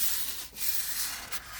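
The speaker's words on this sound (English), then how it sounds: "when we spray" Spray being applied to a model ship, a steady broad hiss running close and fairly loud through the whole stretch, with brief dips in intensity and no talk over it.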